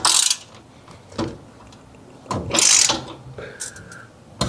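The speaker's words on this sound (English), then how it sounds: "go underneath and tighten those 4 bolts also." A ratchet tightens bolts on an electric tail-dragger aircraft tug in short bursts of clicking spread over several seconds, close by, with quiet gaps between strokes.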